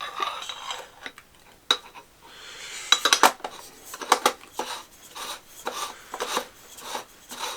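A metal silencer is screwed onto an Ares M3A1 airsoft grease gun barrel, producing close, gritty scraping and rasping of threads in uneven twisting strokes with small clicks.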